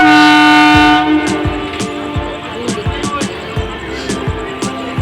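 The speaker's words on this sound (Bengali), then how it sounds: "একটা ট্রেন এখনই যাবে।" A train passes at a station: a loud, sustained horn opens, then a steady rhythmic clatter of wheels over rail joints rolls on close by.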